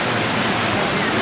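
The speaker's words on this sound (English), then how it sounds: "this big, cool-looking stone building here, complete with waterfall" Steady rushing waterfall at a big stone zoo exhibit building, a continuous broadband roar filling the whole moment with no break.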